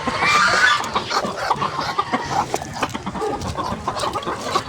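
A backyard flock of chickens clucks steadily nearby, a continuous jumble of short clucks and occasional louder squawks.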